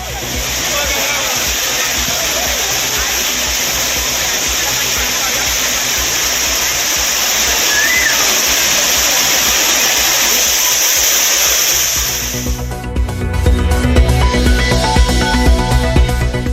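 Old Courtallam waterfall pours in a steady, loud rushing roar that fills most of the stretch, then cuts off abruptly near the end as a different, busier sound takes over.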